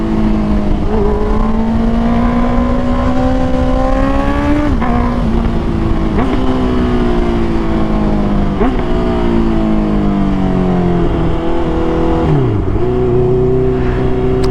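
A Honda CBR 650R motorcycle out on a ride, its engine whine sliding up and down through gear changes, loud and close with steady wind roar underneath, and no talking.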